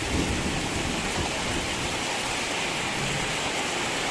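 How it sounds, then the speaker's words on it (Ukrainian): Heavy rain pours down during a thunderstorm at a fishing pond, a dense, steady roar of rainfall with rumbling thunder blended in, loud and continuous with no voices. "з такою зливою."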